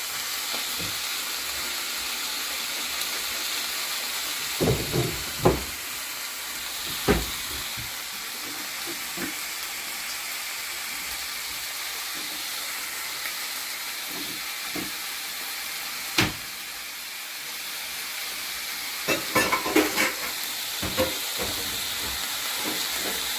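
Garlic and food frying in a pan, a loud continuous sizzle and hiss with occasional clanks and scrapes as the food is flipped and stirred, close and without talk.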